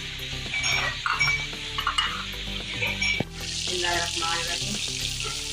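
Chicken fries until brown in a pan for chicken mattar salan, with a loud continuous sizzle, a spatula stirring and scraping rhythmically, and a brief clink partway through.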